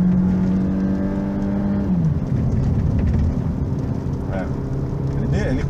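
A 2016 VW Golf Flex accelerating hard toward 90 km/h: a steady engine drone that shifts pitch as it gains speed, with a voice talking over the running car.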